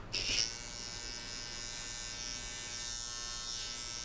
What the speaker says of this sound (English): Next one, we jump to the trimmer.